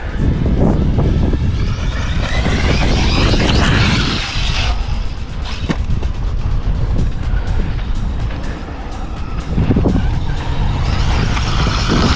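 RC speed buggy converted to a basher with bigger tires, driving and jumping over rough terrain: a steady, loud, whining motor roar with rushing wind and ground noise, close, dipping briefly, no talk.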